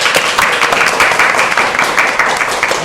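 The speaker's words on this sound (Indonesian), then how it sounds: "Boleh dong tepuk tangan teman-teman." Steady crowd applause with dense clapping throughout, fairly loud and continuous, no voices standing out.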